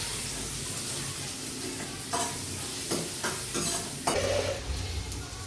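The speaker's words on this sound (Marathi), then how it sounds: "आता कांदा परततो यामध्ये, मसाले बाकीचे." Onion and spices sautéing in a home kitchen pan for dal palak, with a steady broadband sizzle and a few stirring scrapes and clinks spaced through the clip.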